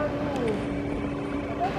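A tractor's engine drones steadily at work nearby, a continuous low hum with a faint whine rising and falling over it.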